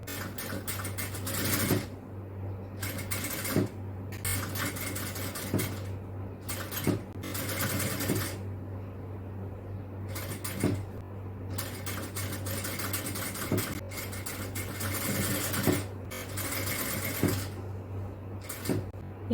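A sewing machine stitches an inskirt in bursts of a few seconds each, with short pauses between runs over a steady low hum, close and moderately loud.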